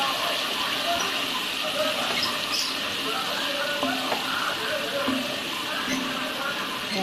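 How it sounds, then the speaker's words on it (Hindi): Ginger garlic paste frying in hot oil in a pan, a steady soft sizzle running throughout at moderate level with faint background noise. "हमने भूना अदरक लहसुन के पेस्ट को थोड़ा सा"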